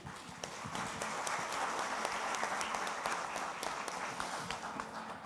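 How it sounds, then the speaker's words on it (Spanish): Audience at a panel on workplace inclusion of people with disabilities applauding the panelists; moderate, somewhat distant clapping with distinct individual claps, steady throughout. "Un aplauso al panel."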